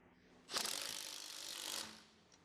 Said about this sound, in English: secure the hub lug nuts with a 17mm socket